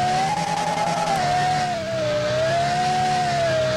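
A Ferrari drifting across open desert in the video game Car Driving Simulator 2020: a loud, steady engine whine holds throughout, its pitch gently dipping and rising, with no voices.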